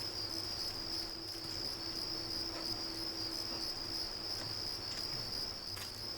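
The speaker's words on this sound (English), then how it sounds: "That's just cicadas in general, dude." Cicadas in the video game Deus Ex, a continuous high shrill insect drone with steady pulsing texture, persistent and fairly even over several seconds, no speech.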